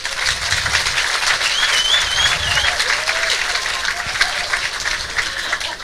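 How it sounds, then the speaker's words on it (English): Sustained audience applause fills a hall at a Transnet Engineering 23E TRAXX locomotive project event, dense steady clapping throughout with faint voices mixed in. "So please give yourselves a round of applause."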